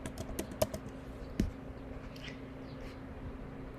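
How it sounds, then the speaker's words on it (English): A patron's name is keyed on a computer keyboard in a library, with a brief cluster of soft clicks early on before the tapping fades into a low room hum. "we're going to type in the patron's last name"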